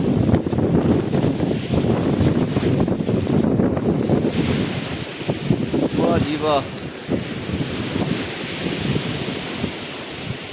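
Sea waves breaking on the Montenegro coast in cold, gusty weather, a steady roar of surf with heavy wind buffeting the microphone throughout, while someone speaks and exclaims over it.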